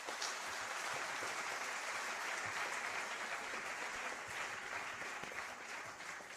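Steady, dense clapping from an audience after an inaugural lecture, even and continuous throughout, heard from a moderate distance with no talking.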